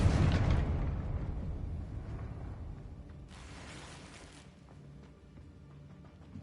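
A Confringo fire spell explodes in Hogwarts Legacy, a loud booming blast at the start that rumbles and decays over several seconds, with a hissing burst partway through.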